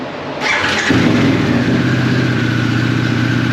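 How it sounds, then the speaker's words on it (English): A Harley-Davidson Pan America motorcycle engine cranks and catches, then settles into a loud, steady idle close by, with no talking over it. "We'll fire this bike up."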